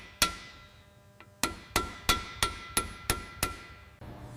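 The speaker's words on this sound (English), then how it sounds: "Tapping the bearing out with a brass hammer and a punch." A brass hammer strikes a punch to drive out a stuck, heated motorcycle bearing, with one sharp metallic tap, a pause, then a rapid regular series of about seven crisp close knocks.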